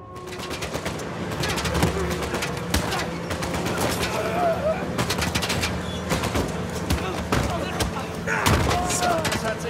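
Bursts of gunfire crackle through a chaotic street shootout in the video game Uncharted 4, with rapid automatic volleys and single shots overlapping at close range, birds flapping nearby and a voice talking over the din.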